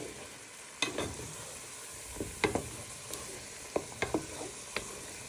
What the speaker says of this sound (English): You're first just going to give that a little bit of a stir.